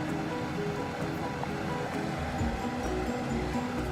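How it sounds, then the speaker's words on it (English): Fish head soup comes to a boil in a pot, giving a soft, steady bubbling and rushing wash at low volume with faint clinks near the end. "See it starting to boil already."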